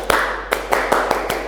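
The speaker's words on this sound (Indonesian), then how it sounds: "Tepuk pramuka." A scout clapping pattern performed in a classroom: a few hands clap in unison in a sharp rhythmic sequence of about six distinct claps, close and crisp with short gaps.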